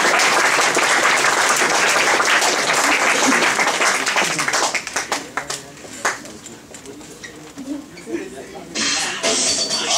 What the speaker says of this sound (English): So can we get a round of applause going, please?